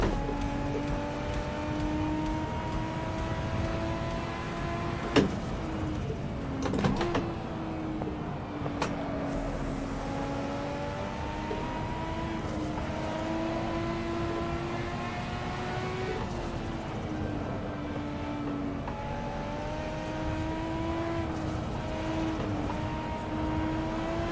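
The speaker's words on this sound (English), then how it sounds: "Drift cars on the Wangan. They're not the fastest, but they are quite fun because they're pretty maneuverable." Drift car engines from the Assetto Corsa video game on the Shutoko Wangan expressway, a steady droning whine with shifting revs and occasional gear changes, continuous and fairly loud throughout with no talking.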